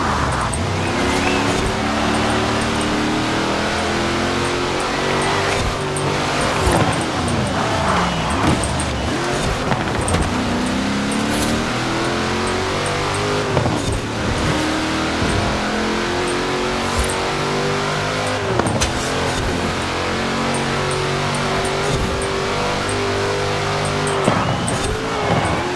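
High-revving supercar engines race in Forza Horizon 4, with a Lotus, Ford GT, Porsche and Ferrari in the pack. Loud, continuous engine drone rises and falls through gear shifts, with several upward sweeps and no talk.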